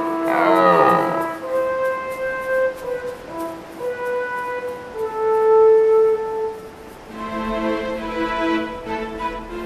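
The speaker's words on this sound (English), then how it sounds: "All day long, the rutting calls of stags echoes from the slopes." Red deer stags give deep, drawn-out rutting roars that echo from mountain slopes in autumn. Several long bellows follow one another at moderate distance, with no talk.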